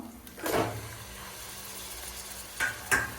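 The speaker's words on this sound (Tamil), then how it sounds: "இப்போ எண்ணெயிலே நல்லா வதங்கட்டு" Large chicken pieces fry in oil with a soft, steady sizzle, broken by a few louder bursts of hissing and spatter as they are stirred in the pan.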